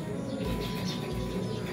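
Racing pigeons coo at a loft, soft low throaty calls repeating under steady background noise, faint and close.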